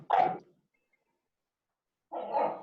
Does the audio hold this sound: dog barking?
yes